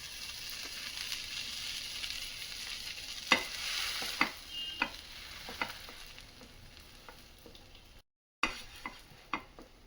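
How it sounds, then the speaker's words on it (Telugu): Ghee-coated bread slices sizzle steadily in a pan, a soft continuous fry punctuated by several sharp clicks and scrapes as the slices are turned to toast both sides. "ఇప్పుడు మనం బ్రెడ్కి గీ అప్లై చేసుకున్నాక మనం 2 సైడ్స్ మంచిగా కాల్చుకుందాం"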